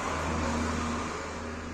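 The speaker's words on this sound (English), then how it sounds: "So the pump is running now, as you can see, right?" A Defy DTL149 top-load washing machine's drain pump runs with a steady, loud mechanical hum and broadband whoosh, constant for a short stretch with no talk.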